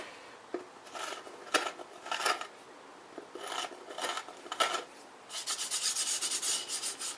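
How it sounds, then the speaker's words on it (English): An 8mm drill bit cleans up drilled holes by hand, giving short rasping, grinding scrapes in bursts of two, then a longer run of rapid rhythmic scraping at the end, close and fairly quiet. "we can either just use the 8mm drill bit again, which works just as well"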